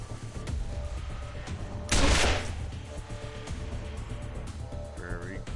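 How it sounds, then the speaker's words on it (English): A short burst of rapid gunfire rips out mid-scene during a shootout in the video game Wasteland 2, loud against a steady ambient game backdrop. "might as well gun you down"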